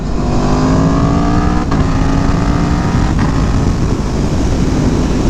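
An Aprilia Tuono V4 1100 motorcycle, a 2017 model, roars loudly and continuously on the road as the rider downshifts, with two brief gear-change blips breaking the steady engine note.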